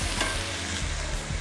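Water poured into a hot pan while cooking, sizzling and bubbling steadily with a few stirring scrapes, close and fairly loud throughout with no voices.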